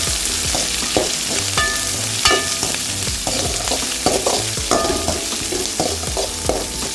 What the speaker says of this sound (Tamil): வெங்காயம் மிளகாய் இந்த அளவுக்கு வதங்கிருச்சு.